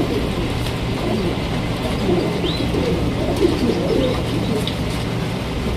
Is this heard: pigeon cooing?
yes